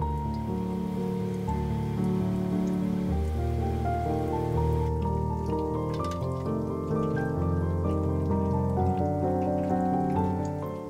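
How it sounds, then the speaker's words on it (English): Egg rolls with potato filling deep-fry in hot oil over medium heat, giving a steady, dense crackle and sizzle that runs underneath continuous music. "Fry until they turn a light golden color."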